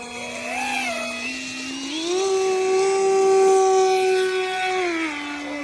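RMRC Anaconda RC plane motor spinning up for takeoff, a steady electric whine rising in pitch midway and holding high and close before easing slightly at the end, with no talk.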